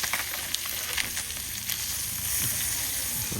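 Fresh fish fries in a pan, a close, bright, crackling sizzle with a few sharp pops, steady and unaccompanied by speech.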